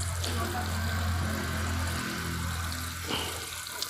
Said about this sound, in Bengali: এরপরে হচ্ছে আমি খুব ভালো করে জল দিয়ে দেব